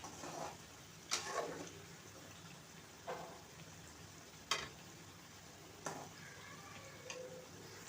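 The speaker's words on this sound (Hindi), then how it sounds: "इस तरह आराम से इनको फ्राई कर लें। मसाला भरी हुई मिर्चें इस तरह हो जाएंगी नरम।" Masala-stuffed green chillies fry in hot oil with a soft, steady sizzle, broken by a few louder crackling spurts and stirring clatters spaced several seconds apart.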